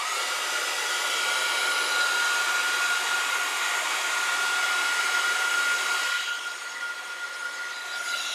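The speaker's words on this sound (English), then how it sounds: "All right, I'm gonna heat set." Heat tool running steadily on a heat setting setting over a craft mat, a loud continuous blowing whir that holds for about six seconds, then drops slightly quieter and thinner toward the end.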